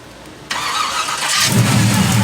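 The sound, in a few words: car engine starting up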